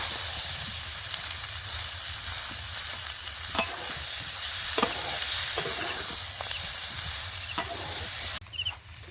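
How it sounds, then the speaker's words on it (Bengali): Boiled potatoes stirring and frying with spices in a pan for a potato curry, a steady close sizzle and hiss throughout with occasional scraping stir clicks, then quieter near the end. "আলুগুলো মশলার সঙ্গে বেশ কিছুক্ষণ কষিয়ে নিয়েছি"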